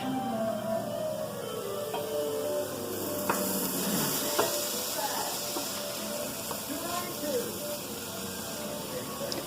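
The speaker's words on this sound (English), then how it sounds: "let's stir our meat real quick" Hamburger meat and onions frying in a cast iron skillet, stirred with steady scraping and a continuous sizzle, with a few sharper clicks of the utensil against the pan.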